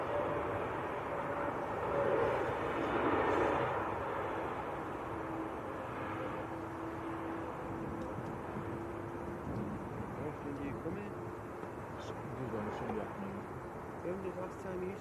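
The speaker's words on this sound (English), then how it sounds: "this is Jet2's new toy, A321neo" A Jet2 Airbus A321neo airliner at Manchester Airport gives off a steady, distant engine rumble that swells slightly and then holds level, heard beneath people chatting nearby.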